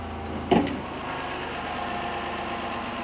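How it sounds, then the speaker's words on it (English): A Ford Escape 4x4 with about 102,000 miles idling steadily nearby, a low even hum that is briefly interrupted by a single sharp knock or clunk early on. "Engine sounds real great."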